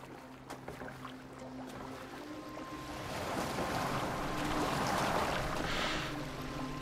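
A boat moves across open water in the video game Assassin's Creed Valhalla, with a steady wash of waves and wind that swells louder midway and stays broad and even throughout.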